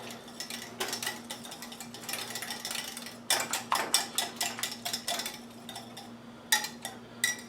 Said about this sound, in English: Whisk this up really good.